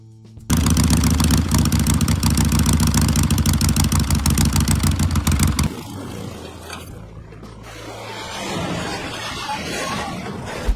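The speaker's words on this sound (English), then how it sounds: "You hear the Harley before you see it" A loud, throbbing Harley-Davidson motorcycle engine roars steadily for several seconds, then cuts off, leaving quieter rumbling and scraping noise.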